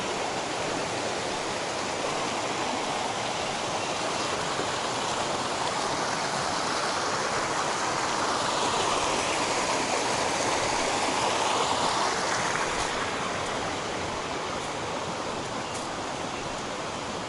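A flowing creek in the Cohutta Wilderness rushes steadily and fairly close, a continuous broadband wash of water over rocks with no voices for the whole stretch.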